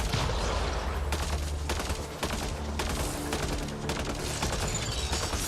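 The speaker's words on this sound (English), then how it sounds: "This is the assault rifle. Yeah, that sounds good." Rapid bursts of assault rifle fire from a sci-fi shooter game, dense and continuous with sharp repeated cracks and booms across the whole stretch, loud and close.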